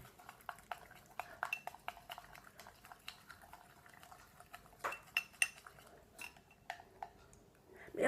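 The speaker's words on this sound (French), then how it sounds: "Alors je mélange bien." A spoon stirs a slime mixture in a container, giving quiet, irregular clicks and scrapes with soft wet squelches, close up and fairly faint, with no talking.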